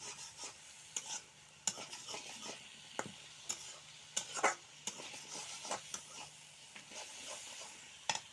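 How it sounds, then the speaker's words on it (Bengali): Flat beans and potatoes stir-fried in a fish curry, with a steady soft sizzle under repeated scraping strokes of a spoon against the pan, close and irregular in rhythm. "এখন সিম আর আলু দিয়ে দিব। এখন ভালোভাবে কষিয়ে নেব।"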